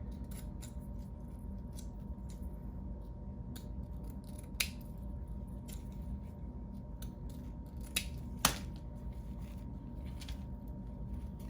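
Scissors snipping the ribbon ends of a fluffed bow for a cross-stitch ornament, several crisp, sharp clicks spaced irregularly over a steady low hum, close but quiet.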